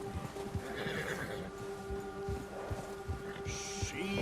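A nervous horse in Red Dead Redemption 2 gives a whinnying neigh over faint hoof clip-clops and a low game-world hum, fairly quiet overall, with a brief higher tone near the end.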